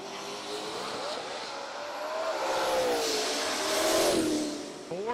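A Ford Mustang and a Chevrolet Camaro drag race at a radial-tire drag racing event, engines roaring loud and sustained as they accelerate down the strip, swelling in intensity midway and then fading slightly.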